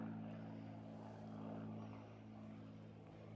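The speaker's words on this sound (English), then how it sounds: "That could even be a private plane taking off." A small propeller plane taking off: a steady propeller-engine drone with a strong low hum, holding fairly constant and slightly easing off toward the end; no voices.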